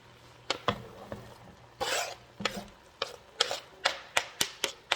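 Onions go into a single pot beside browning beef for a beef stroganoff: a close run of sharp knocks and scrapes of a utensil against the pot, with a brief hissing sizzle burst midway and no talking.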